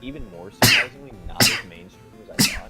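A person sneezes sharply during a casual conversation, with three loud broadband bursts standing out against ongoing talking voices.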